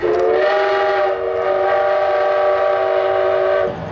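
A loud, sustained toy train whistle tone with steady harmonics holds for several seconds, close and continuous, with no talking.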